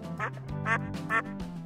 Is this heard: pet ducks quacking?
yes